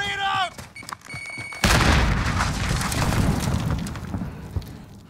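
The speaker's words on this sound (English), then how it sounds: "Grenade out!" Grenade explosion in Call of Duty: Warzone, a heavy booming blast after a moment of game sounds and a voice, followed by a long rumbling decay with scattered thuds.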